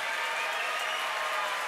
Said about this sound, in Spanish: tratemos de guardar los aplausos para el final